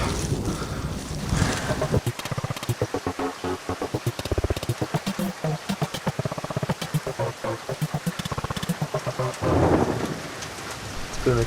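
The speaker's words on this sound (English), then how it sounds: "Thunderstorms, extremely strong thunderstorms began" A violent thunderstorm in Saxon Switzerland pounds a campsite with heavy rain, rapid rhythmic drumming of drops on a surface broken by loud bursts of rumbling thunder and wind.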